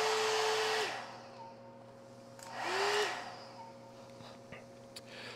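Hair dryer brush blowing air on its low setting, a steady airy rush with a faint motor whine, running in two loud bursts separated by a quieter pause, with no talking.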